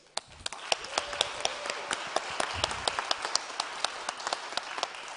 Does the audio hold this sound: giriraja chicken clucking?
no